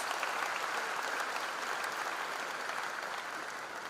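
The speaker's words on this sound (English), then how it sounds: "give them a big applause" An audience at a university freshers' induction applauds a group of engineering students, a dense, continuous wash of many hands clapping at steady loudness, heard from within the hall.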